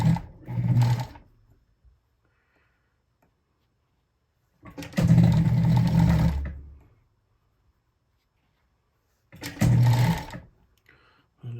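A sewing machine stitching gauntlet liners runs in three separate bursts of a few seconds each, a close whirring motor hum with quiet pauses between runs.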